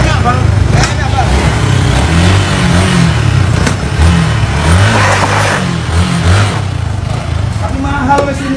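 A Yamaha R25 motorcycle, the newest model, revs its engine in rising and falling bursts close by, a busy outdoor scene with people talking over it throughout.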